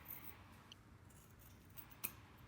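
Scissors snipping through folded cotton cloth and plastic wrap, faint and quiet, with a soft scrape and one sharp snip near the end against low background noise.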